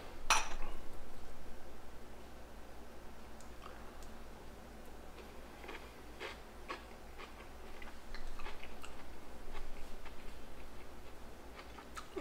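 Someone tasting a turkey salad sandwich made from Thanksgiving leftovers, with soft, close, irregular chewing clicks and smacks after one sharp initial sound, quiet and alone.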